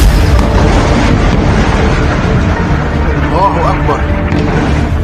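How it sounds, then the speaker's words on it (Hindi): Bombing explosions in Lebanon boom and rumble continuously, loud and heavy with dense low thunder throughout, while a voice speaks over the blasts. "इजराइल अब लेबनान पर नॉन स्टॉप बमबारी कर रहा है।"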